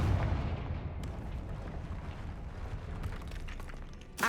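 A Confringo fire spell blast in Hogwarts Legacy, a booming fiery burst that rumbles on for several seconds with a sharper crack at the end, with no talking.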